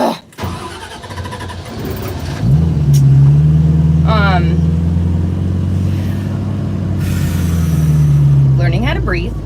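A 1968 Mustang with a manual transmission cranks and restarts after stalling, its engine catching and settling into a steady, loud idle close by for several seconds, with brief speech near the end.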